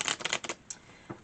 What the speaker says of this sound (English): that was actually a really bad shuffle.